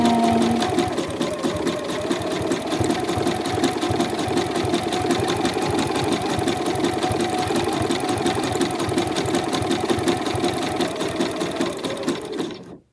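Close, loud sewing machine running at a steady rapid pace as it stitches around the edge of an espadrille dust bag, the needle's rhythmic clatter continuing unbroken before stopping abruptly at the very end.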